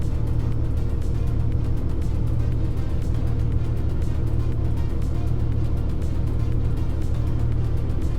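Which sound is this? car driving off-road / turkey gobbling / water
car driving off-road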